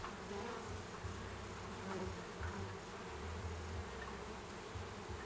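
Honey bees hum in a dense, continuous buzz inside an opened beehive in winter, close and steady with small fluctuations, no voices.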